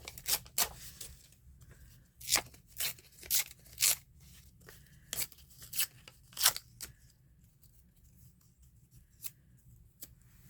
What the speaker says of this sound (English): I'm just going to tear it.